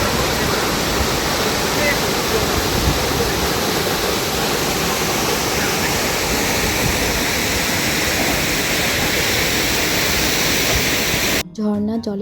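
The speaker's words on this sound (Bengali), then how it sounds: "ঝর্ণার জলের শব্দটা শুনলে বন্ধুরা কতটা তীব্র এই জলের গর্জন।" Roaring waterfall at Uski falls deep in Simlipal forest, a loud, steady broadband rush of falling water that fills the scene without letup, cutting off abruptly near the end.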